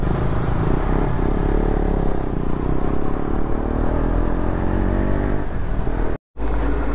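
A KTM 390 motorcycle runs steadily on the road, its engine a continuous loud drone with wind rush, briefly cut by a sudden dropout near the end.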